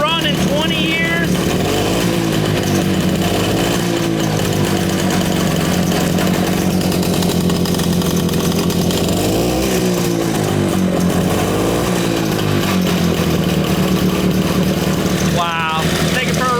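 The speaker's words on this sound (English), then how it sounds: "The first time this motorcycle has run in 20 years." An old motorcycle engine that has not run in 20 years runs loud and steady close by, with a rough idle throughout. A person talks over it intermittently.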